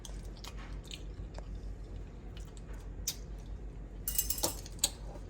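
Food is chewed close to the mic during a home-cooking taste test, with faint, irregular wet bites and crunches over quiet background hiss, a few sharper clicks near the end, and no speech.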